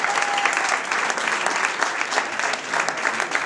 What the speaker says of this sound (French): on applaudit tout le temps